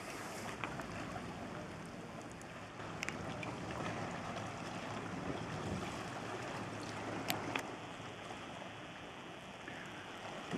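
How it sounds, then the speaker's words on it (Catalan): Mallorcan llaüt boat out on the sea off the island's coast, with steady broadband water wash and wind noise throughout, a low engine hum underneath, and a few brief knocks and splashes standing out near the middle. "I el llaüt, el barco mallorquí, sempre present a les costes de la illa"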